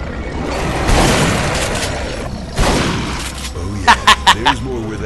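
Gunshots in Duke Nukem Forever: a couple of heavy booming blasts early on, then a quick, loud series of four sharp shots near the end, with game voices in between.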